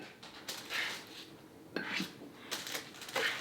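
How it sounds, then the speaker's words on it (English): Baked chocolate chip cookies are lifted off a metal cookie sheet with a spatula: soft, faint scrapes and light taps come in three short separate bursts against a quiet room. "now using a spatula, you're going to take them off."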